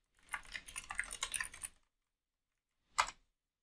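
Typing on a computer keyboard: a quick burst of close key clicks for about a second and a half, then a pause and one final sharp keystroke.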